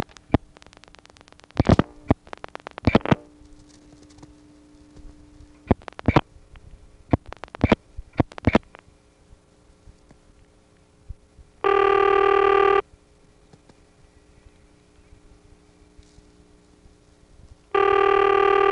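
A telephone on a step-by-step exchange dialing a local call: bursts of rapid clicking pulses as the digits go through, then two long, loud steady ringing tones near the end.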